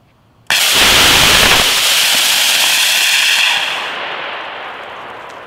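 A homemade 1400 lbf rocket motor fires in a static test burn at night, bursting abruptly into a loud, continuous roaring hiss that holds for about three seconds before fading and tapering off.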